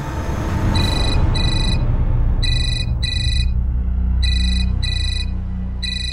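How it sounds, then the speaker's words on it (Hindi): A telephone rings in an indoor domestic scene, repeated electronic double-chirp rings in a steady pattern, loud over a dense low background rumble. "ऑफिस से फोन है,"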